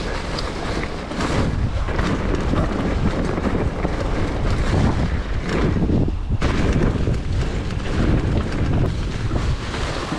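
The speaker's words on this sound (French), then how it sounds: "t'entends le moteur" A steady, loud engine drone runs throughout, heavily buffeted by roaring wind noise across the microphone.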